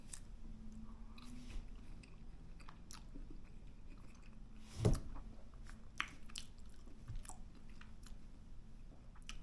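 Deviled egg bitten once with a soft squish, then quietly chewed up close, faint mouth sounds under low room noise.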